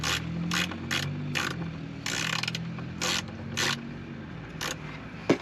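A ratchet wrench clicks in repeated bursts of rapid pawl ticks, about nine short strokes spaced unevenly over a few seconds, close up and fairly quiet, with a low background hum underneath.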